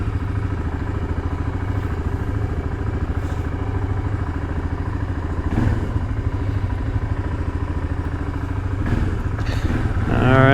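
Motorcycle engine idling steadily as it warms up before a first ride, a loud, close, even chugging throb that holds throughout, with a couple of brief clunks and a slight rev near the end.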